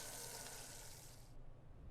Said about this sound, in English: I turn the faucet. Water begins running.